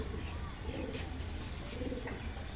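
Pigeons with feathered feet coo in low, soft, repeated bursts close by, over a steady background hum.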